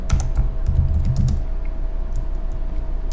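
Computer keyboard typed in a quick run of clicky keystrokes, loud and close, thinning out to a few scattered taps over a steady low hum.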